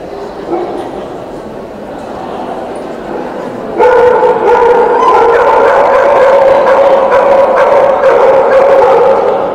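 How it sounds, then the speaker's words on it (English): Dogs at an English Setter show, barking, yipping and howling together in a loud, continuous chorus that swells partway through into sustained howls, with no pauses. "Certainly got a good set of lungs on some of these dogs."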